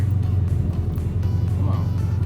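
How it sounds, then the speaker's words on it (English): A truck's engine drones low and steady with pulsing, churning revs as its wheels spin out in slick mud, close by and continuous. "We're just spinning out now because it's so muddy."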